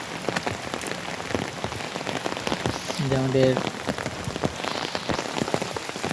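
Rain falls steadily outdoors on a wet morning beside a swollen canal, a dense patter of drops on surfaces throughout, with a person speaking briefly over it.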